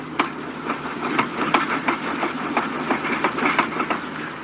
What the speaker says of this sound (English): here's your front end making noise